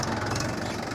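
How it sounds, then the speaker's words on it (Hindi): Mahindra 585 tractor idling, a steady low diesel rumble with even knocking pulses, close and continuous over one brief second. "महिंद्रा 585 ट्रैक्टर"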